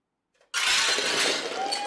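A woman smashes a stack of bricks in a record attempt, a sudden loud crash with a sharp shattering burst that rings on briefly after a near-silent moment.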